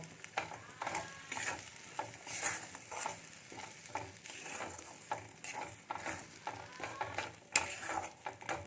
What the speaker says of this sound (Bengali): লবণটা দিয়ে ভালো করে কষিয়ে নেব